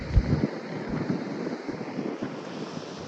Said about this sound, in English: there's no way to get completely out of the wind